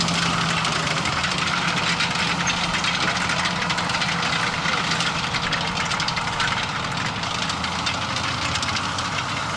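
WWII American armored vehicles, among them M10 and M36 open-top tank destroyers, rumble past at a mechanized parade, making a loud continuous engine drone with clanking and a low throb that holds steady throughout, with no speech.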